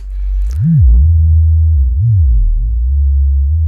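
A loud, pure electronic sine-wave tone from a synthesizer oscillator, modulated with an Erica Synths Black Joystick 2, warbles and sweeps up and down in repeated smooth arcs, a steady low drone beneath the bending pitch.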